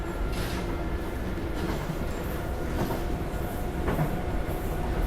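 A Docklands Light Railway train runs along the track, a steady rumbling ride with rhythmic clicks and faint wheel squeals, heard continuously from on board.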